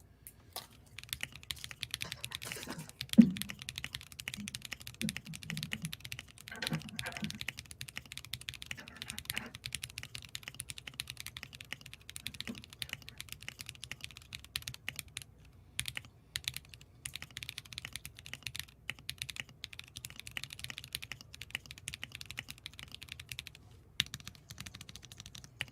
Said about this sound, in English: So, that's a keyboard. It types, it does things, and it makes sounds.